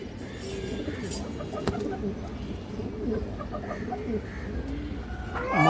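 Pigeons coo in soft, repeated low calls amid a steady hum of birds nearby, continuing throughout at moderate loudness.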